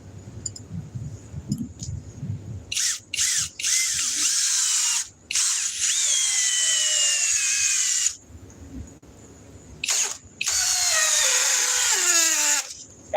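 An electric drill spins up in several bursts, whining at high pitch with pauses between runs, close and loud.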